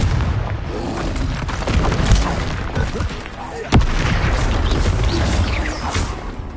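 Explosive Confringo spell blasts in the game Hogwarts Legacy, a dense rumbling barrage of booms with a sharp crack near the middle, layered over continuous battle noise.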